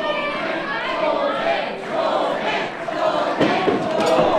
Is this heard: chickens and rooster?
no